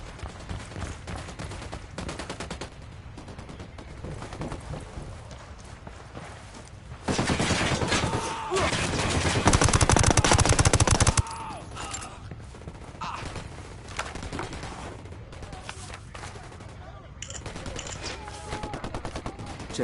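Gunfire in the video game Tom Clancy's Ghost Recon Wildlands, a busy stretch of rapid shots over game ambience, swelling into a dense, loud burst midway before easing back to scattered fire, with a little voice in the mix.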